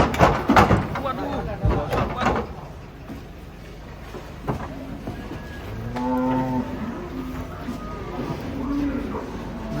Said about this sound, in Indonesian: Mantap ini guys, 2 sapi jumbo datang